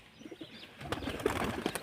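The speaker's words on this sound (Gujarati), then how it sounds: "જોઈ શકો છો ચારે ચાર કબૂતર આપણા ઉડી ગયા પેટીવાળા" Pigeons on a rooftop take flight; a low coo and soft bird calls sound first, then a louder flurry of flapping wings and scattered chirps builds over the second half, close by.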